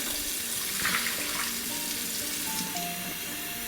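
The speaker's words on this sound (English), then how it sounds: "rinse it out" Tap water runs into a container of sprout seeds as they are rinsed and swirled, a steady, close gushing with faint ringing tones as the water circles.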